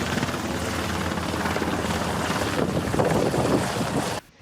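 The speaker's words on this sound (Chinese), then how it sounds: "空气直升机嘛出动，为20公里远的日月潭抢水来拍火" A firefighting helicopter fetching water from Sun Moon Lake in Taiwan for a forest fire in Nantou drones steadily and loudly, its rotor noise mixed with wind, before cutting off abruptly at the end.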